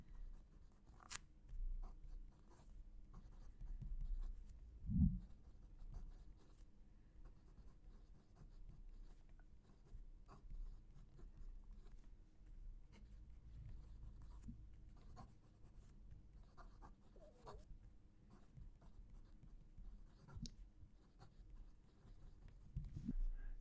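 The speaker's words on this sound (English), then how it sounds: "Just going to move the mic so you can hear the pen write." A fine-nib fountain pen scratches faintly across paper in a quiet room, with soft intermittent strokes and small taps heard close to the microphone, no voices present.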